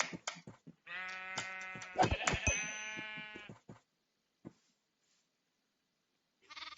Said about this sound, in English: is that a legendary, a rare little lamb?